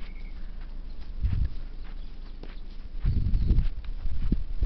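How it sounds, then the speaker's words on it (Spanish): Cows walking past on a rural road in Parque Minas, Uruguay, with soft hoof thuds in a couple of uneven bursts, fairly close, and no talk over them. "Ahí van las vacas."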